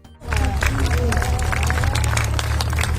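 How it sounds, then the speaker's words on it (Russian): Sustained applause from a large outdoor crowd as an actress's coffin is carried out of a church, dense rapid clapping that starts abruptly and continues loud and steady, mixed with crowd murmur and voices. "Гроб актрисы вынесли из церкви под аплодисменты"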